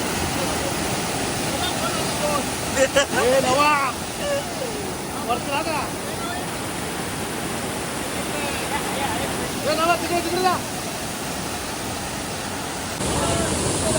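A constant roar of falling water from Tavli waterfall above Bohnoli village, Ambernath, fills the whole stretch, loud and close, with people talking and calling out intermittently over it.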